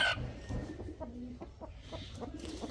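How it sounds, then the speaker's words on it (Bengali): Backyard hens, including a black one, give short clucks in a loose series close by, fairly faint, with no talk over them. "এই কালার মুরগি এই কালো মুরগি গাছে জায়গা পাওলাম বলে মুরগি যাবে"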